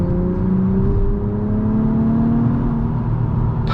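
Engine of a 2024 Acura TLX Type S, a steady smooth drone with a gently rising whirring pitch, heard close and continuous with no talking.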